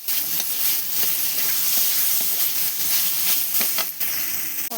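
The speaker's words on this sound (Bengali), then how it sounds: "এবার ভাজা আলুগুলো দিয়ে একটু হালকা কষিয়ে নিচ্ছি।" Fried potatoes are sautéed and stirred in a hot pan, giving a loud, steady sizzle throughout with scraping stirs breaking through now and then, close up and with no one talking.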